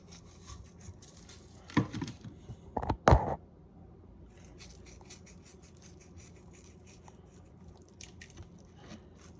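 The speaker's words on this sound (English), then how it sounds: "You want to get a nice coarse grind." A pepper grinder twists out a coarse grind over a T-bone steak, a few brief crunchy grinding bursts early on, then quiet faint rustling and light scraping close by.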